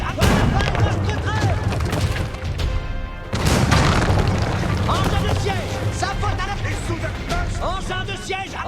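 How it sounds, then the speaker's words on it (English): Cannons fire at castle walls during a battle in Age of Empires, heavy booms and crashes recurring over a busy din of combat, with someone talking over much of it. "Just keep blasting the walls open."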